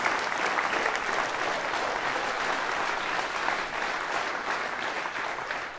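Rally attendees at a final campaign meeting keep up a sustained round of applause, a continuous, moderately loud wash of many hands that stays even throughout.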